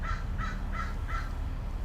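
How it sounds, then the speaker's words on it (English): A crow caws four times in steady rhythm from the trees overhead. The calls are harsh and repeated, heard over a low steady background rumble. "You can likely hear this crow in the trees above me."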